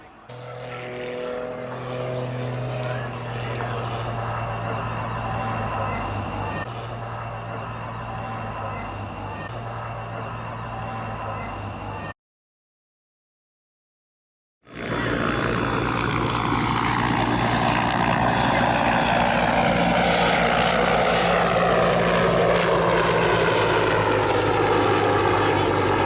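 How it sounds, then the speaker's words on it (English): Rich Goodwin's muscle biplane is heard at the Yeovilton air show as a loud, droning propeller engine that sweeps in pitch as it passes, with a brief gap partway through and a commentator speaking. "coming in to land back on Rich Goodwin with his muscle biplane"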